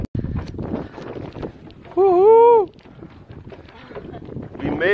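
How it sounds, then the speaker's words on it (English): Gusty wind rushes over open water during a paddle board trip out to Stiltsville off Key Biscayne, Miami. It buffets the microphone steadily, and a loud whoop rises above the rumble partway through. "The wind is picking up now."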